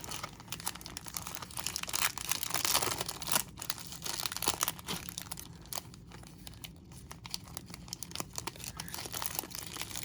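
Foil wax packs of 1990 Topps baseball cards are torn open and unwrapped nearby, producing steady crinkling and ripping with brief sharper tears, continuous over the whole stretch without speech.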